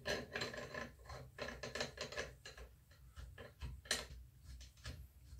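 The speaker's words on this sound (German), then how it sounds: "wir schrauben die Gewindestange durch" Threaded rod being screwed through a homemade router lift, giving dry, uneven rasping and grinding bursts with short pauses, heard close and moderately quiet with no talking.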